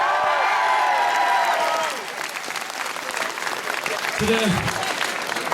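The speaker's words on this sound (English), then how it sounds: "So big cheer to all the supporters" Club supporters at a KDY versus St Kierans gathering clap and cheer in a dense, sustained round of applause, with raised voices and whoops mixed in near the start.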